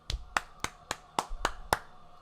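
Seven sharp hand claps ring out close by in a steady, slightly uneven rhythm, each one crisp and separate with no voices around them.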